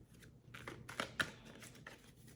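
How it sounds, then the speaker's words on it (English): A deck of tarot cards being shuffled, quiet riffles and soft slaps of cards in a rapid uneven series, close but faint, with a couple of sharper snaps partway through. "Let me shuffle this deck quite a bit."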